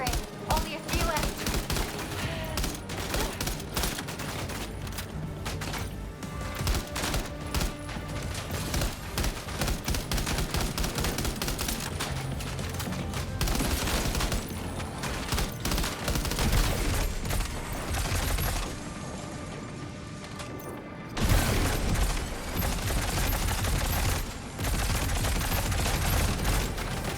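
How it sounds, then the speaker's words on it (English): Rapid gunfire in the video game Death Stranding 2, dense continuous bursts of shots over roughly half a minute, loud and close, with a brief lull near the end before firing resumes, mixed with other game sound. "Keep firing."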